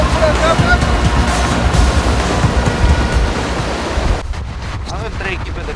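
Sea waves breaking during a naval divers' search for a missing person, a continuous broadband roar of surf mixed with wind buffeting the microphone; it stays loud and steady, then thins slightly near the end.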